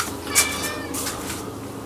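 A single short cat meow rises near the start, brief and moderately close, over a quiet kitchen background with low hum while a meat loaf meal is being prepared.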